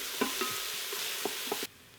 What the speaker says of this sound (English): we're going to use my handy dandy little spurtle here to stir these about